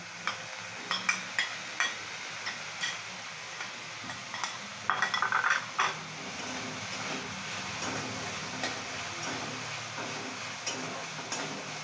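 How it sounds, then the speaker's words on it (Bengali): Cubes of paneer stirred and fried in a little oil in a pan, with repeated scraping stir strokes and a soft, steady sizzle close by, a brief louder clatter near the middle. "একটু ভালোভাবে নেড়ে নিতে হবে, কিন্তু অল্প তেলে।"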